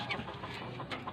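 Soft, scattered clucking from several hens and pullets close by, with short rising calls over a steady background of farmyard noise.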